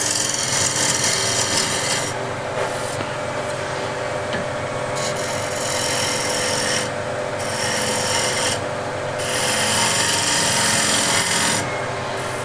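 A scraper rasps steadily against spinning wood on a lathe, with the outside of a turned piece being smoothed. The loud, continuous scraping swells and eases in strokes, with no voices.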